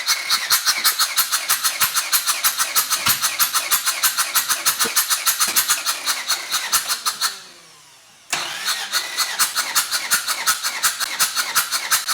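A car engine with low oil pressure cranks with a rapid, rhythmic whirring, stalls into a brief quiet, then cranks again steadily, loud and close.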